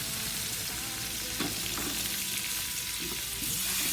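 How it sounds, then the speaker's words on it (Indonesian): Shallots and garlic sauté in a pan for a gulai dish, making a dense, continuous sizzle with a few soft stirring knocks partway through, heard close and without speech. "Kita tumis sampai layu"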